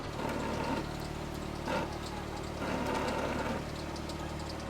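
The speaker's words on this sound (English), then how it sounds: "What you're hearing there is the mud flap dragging." A lowered Honda EF Civic rolls slowly with its mud flap dragging on the ground, giving a steady mechanical drone broken by rougher scraping bursts near the middle and end.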